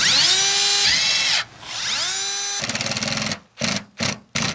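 A power drill bores a hole, its motor whining up to a steady high pitch, cutting out, spinning up again, then ending in a few short chattering bursts close by.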